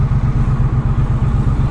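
Triumph Street Cup motorcycle engine while riding, a loud, close low throb with a steady rapid pulsing beat, heard alone.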